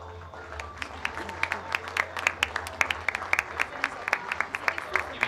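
Scattered clapping from a modest audience at a municipal ceremony where new officials receive diplomas, individual claps distinct and uneven over a low hum, with a few voices murmuring underneath.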